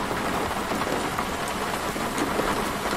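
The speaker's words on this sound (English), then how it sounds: "Uh-oh, rain." Steady rainfall in the Roblox video game, a dense, even patter of drops hissing across surfaces at constant loudness with no voices.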